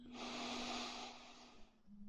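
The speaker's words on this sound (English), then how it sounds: "Let's take a couple of breaths there." A long, steady breath drawn in and let out during a guided loving-kindness meditation, broad and airy, close and fairly loud, with a low steady hum beneath and a softer breath starting near the end.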